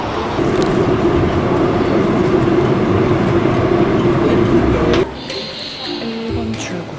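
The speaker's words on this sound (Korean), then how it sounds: "지하철 타고 갈 거거든요" Riding a subway train in Daejeon, South Korea: a steady loud rumble of the moving car for about five seconds, then it drops to a quieter hum with faint tones as the train slows.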